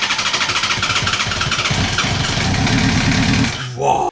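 A wrecked Yamaha R1 sport bike being rebuilt runs loud and close, its engine pulsing in a fast, rough rhythm before blipping and cutting off at the end.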